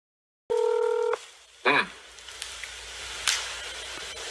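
Touch-tone phone dialing: a short run of steady stacked beeps, then a few quick rising tones as the call connects, followed by faint background noise and a brief burst near the end.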